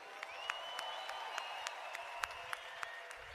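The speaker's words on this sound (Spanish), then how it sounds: "Give them all a big round of applause." An audience applauds at a conference training event, with many hands clapping steadily and scattered sharper claps standing out. The crowd is moderately distant and fairly faint.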